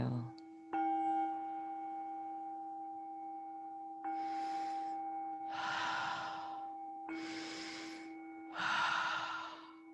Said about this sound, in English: Pulling the air in, pushing it out.